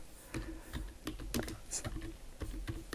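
Quick, irregular keystrokes clatter on a computer keyboard, close and moderately loud, with short pauses between bursts of typing while entering course details.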